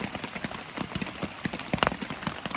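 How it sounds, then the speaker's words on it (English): Rain pattering steadily on a tarp and hammock at a camp along the Foothills Trail, with dense, irregular drops and louder taps close by, continuous with no voices. "it started raining, and it hasn't stopped"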